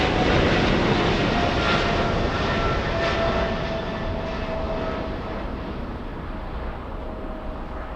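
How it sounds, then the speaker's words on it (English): A Lufthansa Boeing 777 takes off at LAX at night, its jet engines roaring loud and broadband throughout with a steady whining tone, easing slightly as it climbs away. "Lufthansa taking off."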